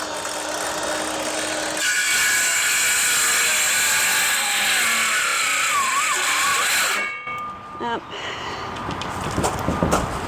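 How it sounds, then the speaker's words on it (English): A cordless power saw cuts through plywood in a basement, a loud, close whining buzz running for several seconds before it stops, with handling clatter and some faint room noise afterward. "My blade is out too long, and that plywood is flexing and binding"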